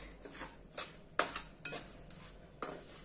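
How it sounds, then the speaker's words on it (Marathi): Peanuts roasting in a pan over a medium gas flame are stirred with a utensil, giving a series of soft scraping strokes and light metallic clinks about every half second, fairly quiet and close. "असंच आपण व्यवस्थित भाजत घेऊया सतत हलवत राहायचं"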